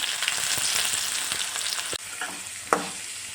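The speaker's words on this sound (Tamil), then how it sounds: "வெங்காயத்தை சேர்த்துட்டேன் கலந்து விட்டுக்கலாம்" Onions frying in hot oil with mustard seeds, cumin and fenugreek for a tomato kulambu, a continuous close sizzle broken by a few sharp utensil scrapes as they are stirred.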